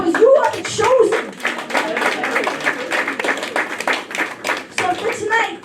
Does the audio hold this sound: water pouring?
no